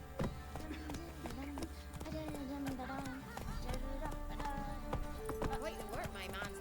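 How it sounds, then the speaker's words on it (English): Hooves of a horse in The Witcher 3 clip-clop in a quick galloping rhythm, mixed with game music and ambience, while voices talk over it. "Run, Roach"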